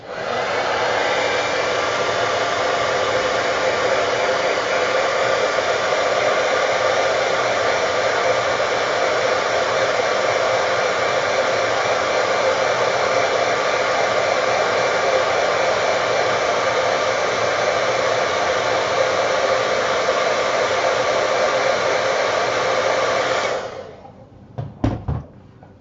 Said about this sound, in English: So I have a trusty hair dryer here,